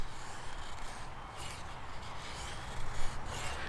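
A knife shaves feather sticks from a batoned split of tulip poplar, giving steady close-up rasping and scraping strokes that run continuously, with a slightly louder pass near the end.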